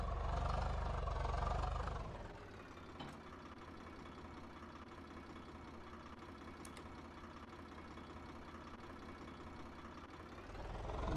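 Simulated Swaraj 855 tractor engine in Farming Simulator 22 pulling a trolley, a steady mid-pitched drone that runs nearly the whole time, louder for the first two seconds and again at the very end.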